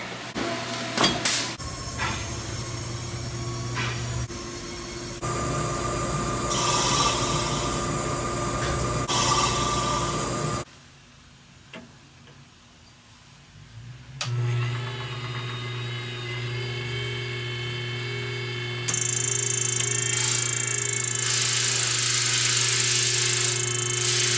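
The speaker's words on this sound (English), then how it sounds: "So we got the cover and the lathe getting ready to get cut for our new compressor wheel." Lathe cutting the cover for a new turbo compressor wheel in a shop, a steady machining drone with shifting high-pitched cutting tones, a brief quieter pause midway, then the cut resumes loud and continuous.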